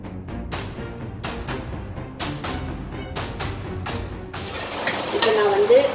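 Tomatoes are stirred and sautéed in a pan while making biryani, with a steady sizzle under a regular series of sharp spoon scrapes and taps against the pan, close up with no talking.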